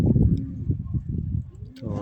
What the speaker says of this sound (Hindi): भाई के कबूतर लड़ रहे हैं